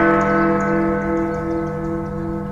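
The hourly bell of the clock tower in Bukittinggi rings out a sustained, resonant tone with rich overtones that slowly fades across the whole stretch.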